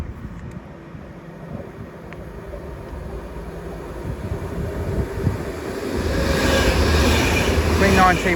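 Passenger train on the West Coast Main Line passing through Watford Junction station, a steady low rumble that swells and grows louder toward the end as it nears, with no talk.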